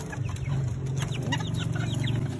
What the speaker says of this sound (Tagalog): Tignan mo manok namin, oh.